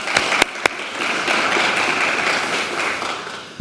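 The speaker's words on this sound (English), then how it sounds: "let's have a brief round of applause for our panelists" Brief audience applause for panelists at a policy event, a short burst of even clapping from a crowd following a few sharp taps.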